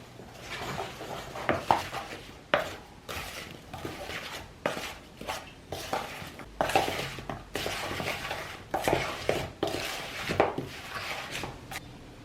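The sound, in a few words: mixing ingredients for strawberry jam and apple pie oatmeal bars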